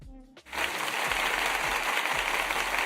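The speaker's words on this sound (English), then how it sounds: "I had to give myself some applause" A burst of applause starts abruptly after a brief pause and carries on steadily, fairly loud and close, with faint low thumps underneath.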